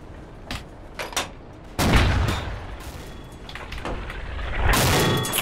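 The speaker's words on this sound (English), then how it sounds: "It's anti-tank rifle shooting at us." Anti-tank rifle fire in a multiplayer World War II shooter game: several sharp cracks early on, then a heavy close boom with a long rumbling tail, followed by another loud blast near the end.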